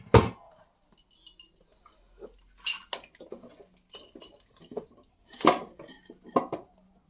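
Cooking pots and karai used for biryani are handled and stacked, sending out several separate metallic clanks and clinks with short quiet gaps between them.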